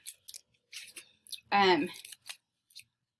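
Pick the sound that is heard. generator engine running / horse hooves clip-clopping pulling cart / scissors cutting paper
scissors cutting paper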